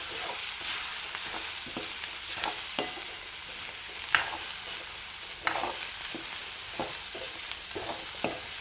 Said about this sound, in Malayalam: കുരുമുളകും പൊടിയും ചില്ലിപ്പൊടിയും ചേർത്തു ഇനി അതൊന്ന് വഴറ്റി കൊടുക്കാം